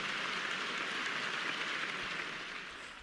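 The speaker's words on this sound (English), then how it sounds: "Definitely deserving of a round of applause." A round of applause from an audience, a dense steady wash of clapping that holds evenly and then tapers off slightly at the end, with no voices over it.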